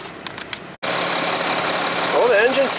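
Diesel engine of an Audi Q7 TDI idling, a steady, loud, even drone that begins abruptly after a brief quieter moment, with a voice speaking briefly over it near the end.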